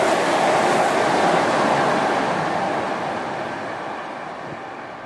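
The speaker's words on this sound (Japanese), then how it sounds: "近鉄八田から近鉄名古屋まで乗りました。" A Kintetsu train running between Kintetsu Yatomi and Kintetsu Nagoya gives a loud, continuous rumble and rushing noise that fades slightly toward the end.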